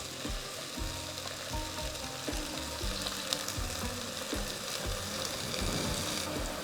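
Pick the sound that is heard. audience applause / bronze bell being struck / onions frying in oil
onions frying in oil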